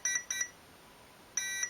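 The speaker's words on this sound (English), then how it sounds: "So you should, in theory, get two sets of beeps now." An RC speed controller beeps out 3-cell battery and motor recognition on a servo winch setup. Two short bright beeps, a pause, then a third, each faint and alone with no talk.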